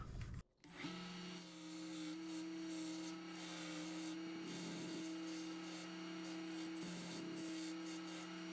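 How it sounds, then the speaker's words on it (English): A belt sander grinds Lebanon cedar wood rings, its motor holding a steady, loud, close hum with a rough abrasive rasp, briefly interrupted near the start and then running continuously. "I'm going to go ahead and do a little sanding here on the belt sander"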